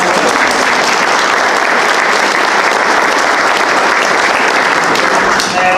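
Applause for a panel at a cannabis industry event, dense and loud clapping that runs steadily for nearly six seconds without letting up.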